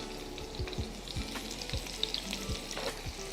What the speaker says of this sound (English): as soon as that butter starts to make some noise, that's when we're adding our shrimp